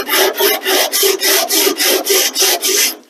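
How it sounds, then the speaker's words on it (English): Wooden model railroad track ties are sanded by hand in a steady back-and-forth rhythm of about ten loud, close rasping strokes, with no talk. "And if we keep sanding those down,"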